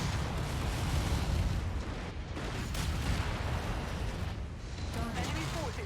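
A big explosion in MechWarrior 5: Mercenaries rumbles as dense, continuous roaring noise with heavy low-end booms amid mech combat and friendly fire, loud throughout.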